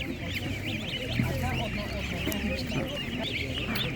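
Geese honking at a busy open-air market in Ukraine, a steady chorus of overlapping nasal calls close by, with faint voices and market bustle underneath throughout.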